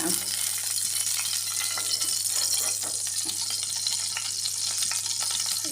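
Sardines frying in oil in an iron pan, a steady close sizzle with scattered crackles and light spattering throughout, alone with no talk.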